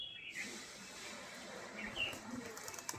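Domestic desi golla pigeons coo softly in their coop, faint, low murmuring calls with a few light chirps over a quiet background.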